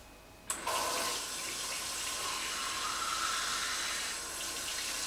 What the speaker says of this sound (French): je vais remplir de l'eau du robinet